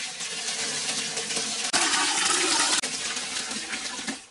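A bucket of water is dumped into a home fish tank during cleaning, giving a steady rushing, splashing pour that surges louder for about a second midway, then tapers off. No talking.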